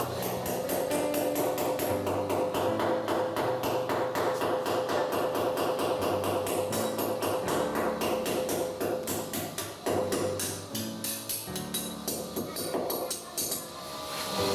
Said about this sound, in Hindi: आपने फॉल्स नट को हैमर के साथ लगाना है